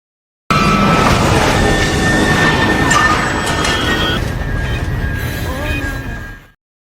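A train roars past at close range in a film scene, a loud continuous rush with metallic whine and squeal that holds steady and then cuts off abruptly.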